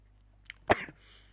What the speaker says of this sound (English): That was a sneeze, by the way, before anyone thinks it's a cough.